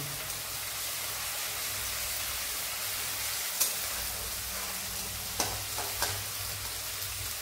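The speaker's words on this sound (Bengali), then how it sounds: "একটু ফ্রাই করে এবার পেঁয়াজটা দেবো" Oil and spices fry in a pan with a steady, close sizzle, broken by a few sharp clicks and scrapes of a spatula against the pan, just before chopped onion goes in.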